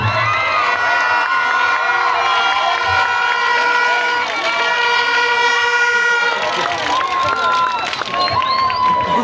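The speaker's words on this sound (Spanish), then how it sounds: "Regalemos un fuerte aplauso." Crowd at an outdoor band performance shouting and cheering, with horn-like tooting and tonal noisemakers over the din, loud and continuous throughout.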